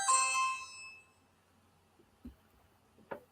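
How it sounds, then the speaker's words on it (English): A single bright electronic chime from a Ring video doorbell rings out and fades over about a second, followed by quiet with a few faint knocks. "Why is there somebody ringing my doorbell?"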